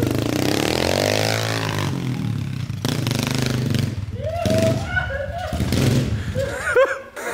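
A mini motorcycle running on aviation gasoline, cold and just started, revs up and down loudly at the start, then idles unevenly while people talk and laugh close by.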